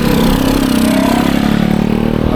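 An old Vespa-style scooter engine putters close by on a street in vintage old-town Bangkok, a loud, steady, buzzing two-stroke drone with no talk over it.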